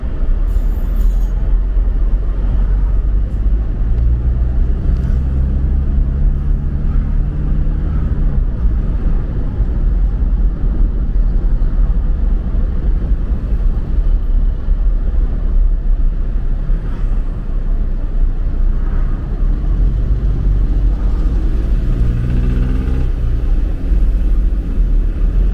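A car drives through the downtown streets of Angeles City after a typhoon, its steady low engine rumble and road noise continuing throughout with faint passing traffic and no talking.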